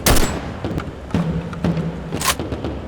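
Cartoon gunshot effects in an animated history short set in World War I: a sharp bang at the start and a second burst near the end, with thuds between them, loud and close.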